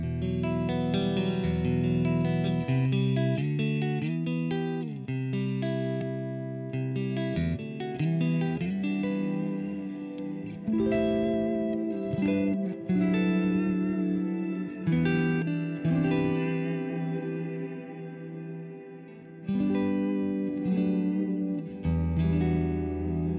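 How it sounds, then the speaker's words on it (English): Electric guitar chords played through a pedalboard ring out one after another, washed in spacious ambient reverb with lingering tails, played alone without any voices. "I wanted to just bring in a little bit of ambient reverb"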